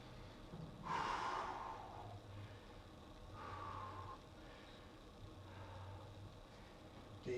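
Deep exercise breathing during a workout, three or four slow, heavy breaths, each a breathy exhale a couple of seconds apart, close and quiet, with no talking.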